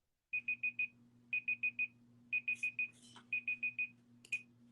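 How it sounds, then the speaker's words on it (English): A timer beeping in groups of four quick, bright electronic tones, repeated in several bursts over a low steady hum, with a few other brief noises mixed in. "I didn't know it was going to beep."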